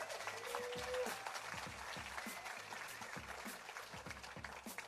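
Applause from an awards ceremony audience fills the room, with steady clapping continuing throughout and some faint voices mixed in.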